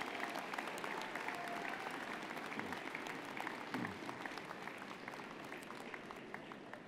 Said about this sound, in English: Wave and cheer. Make some noise.